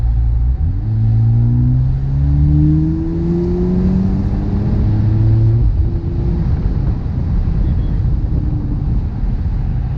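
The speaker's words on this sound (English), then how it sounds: "I'm switching to Sport Plus and then hitting the gas pump." A 2023 Mercedes-AMG SL43 R232 accelerates hard in Sport Plus mode, its engine note climbing in pitch through successive gear shifts, loud and close, with wind rush underneath.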